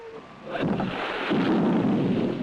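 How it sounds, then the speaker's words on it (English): A deep, rumbling seismic explosion blast swells up and roars on, followed by a broad rushing spray of mud and water that keeps going to the end. "The explosion shoots mud and water up in the air"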